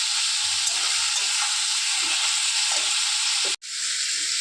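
Sliced ridge gourd fries in hot oil in a pan, giving a steady, close sizzling hiss that continues unbroken apart from a brief cut-out near the end.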